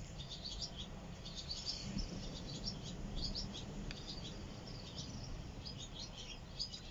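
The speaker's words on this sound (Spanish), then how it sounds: "Hoy nomás los pajaritos." Small birds chirp and tweet at dawn in quick scattered bursts, faint and somewhat distant over a low steady background hiss.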